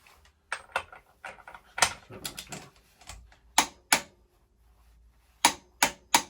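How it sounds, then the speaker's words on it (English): A ratchet bar tightens an axle nut in quick bursts of sharp clicking, several rapid runs of pawl ticks separated by short pauses, close and fairly quiet. "the ratchet bar to tighten it up"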